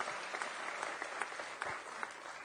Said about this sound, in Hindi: तो एक बार दोबारा से ताली अपनी बहन के लिए,